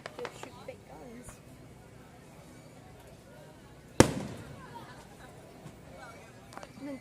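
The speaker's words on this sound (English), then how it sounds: "They shot it with the fireworks. It exploded." A carnival fireworks burst goes off with one loud, sharp bang midway, followed by a fading crackle, while people chatter in the background before and after.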